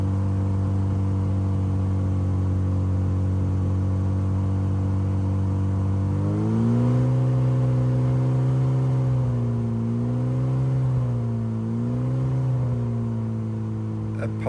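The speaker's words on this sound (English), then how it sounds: "I won't talk too much over this so you can hear the tone of the exhaust." An Austin Healey Sprite Mk 1 exhaust idles with a steady, loud low drone, then rises in pitch through several smooth revs that swell and fall back, recorded close with no talking.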